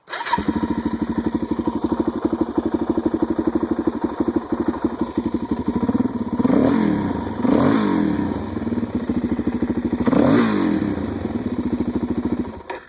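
A Suzuki DR-Z 400 single-cylinder motorcycle engine, 2009 SM or 2003 S, idles loud and close with a rapid, even thumping beat, swelling in a few brief revs partway through.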